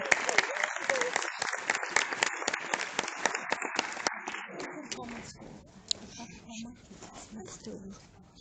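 An audience at a school event on stage gives a round of applause: dense, steady clapping that thins out and fades after several seconds, with voices over it.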